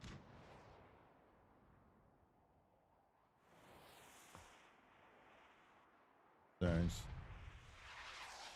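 Mortar fire in a video game: a few distant booms and rumbling blasts, with one sharp loud impact near the end under quiet background noise.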